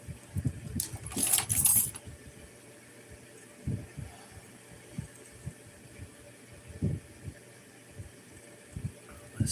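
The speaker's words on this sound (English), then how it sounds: "jingle your keys for us" A set of keys jangles in a quick burst near the start, a second or so of bright metallic clinking, followed by quieter scattered rattles and handling noises without talk.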